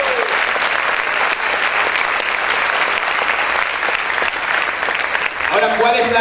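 A church congregation claps loudly and steadily throughout, a dense crowd of applause; near the end a voice breaks through over the clapping.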